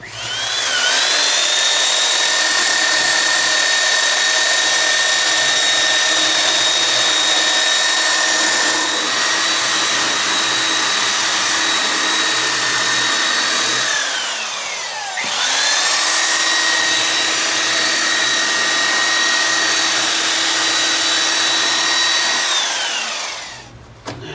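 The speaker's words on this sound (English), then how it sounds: "After using the belt sander, it leaves like hairs, little fine piece of plastic" A loud, steady belt-sander whine on plastic fender trim runs almost nonstop up close, with a brief dip in pitch midway before the motor spins back up.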